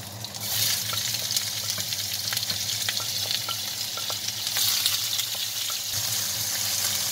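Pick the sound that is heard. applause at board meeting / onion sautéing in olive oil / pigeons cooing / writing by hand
onion sautéing in olive oil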